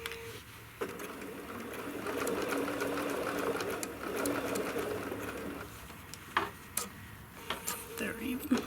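Sewing machine basting a scant quarter-inch seam to hold a ruffle on a peppermint pillow, running in a steady whirring stretch, then stopping for short bursts and ticks near the end.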